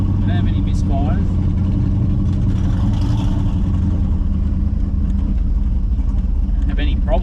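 A supercharged Holden VL Calais fitted with a Harrop 2300 blower races on a track, its engine a loud, constant droning roar throughout while someone talks over it.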